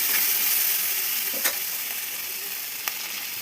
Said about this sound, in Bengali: এবার এটা দিয়ে দেবো কাঁচা লঙ্কা, ভালো করে কষিয়ে নেব।